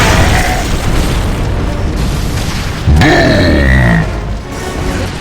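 Frag grenades burst in Gears of War: Judgment, giving heavy booms with a deep rumbling tail, mixed with grunts and shouted combat voices throughout.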